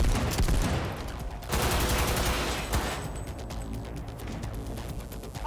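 Gunfire in the video game Cyberpunk 2077: dense bursts of automatic shots and overlapping volleys, loud and continuous through most of the stretch, with a brief lull midway before firing resumes.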